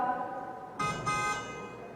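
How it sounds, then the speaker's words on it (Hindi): A car horn sounds in two short, close honks in quick succession over a quiet background, with no talking. "ये कार हॉर्न है।"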